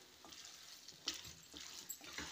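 Squid pepper gravy sautéing in a pan, a soft steady sizzle broken by a few scraping stirs of the spoon, close and fairly quiet with no voices.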